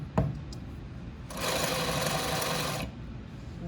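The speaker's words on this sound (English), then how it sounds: "Top stitching just like we top stitched on our yoke, just like we top stitched on our pocket." A sewing machine top stitches a seam on a shirt sleeve, running in one steady, close burst of rapid mechanical whirring after a brief click, then stopping.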